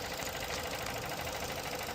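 A car engine, freshly overhauled and showing a check-engine fault, idles with a steady dense mechanical rattle and faint rhythmic knocking, continuous and close.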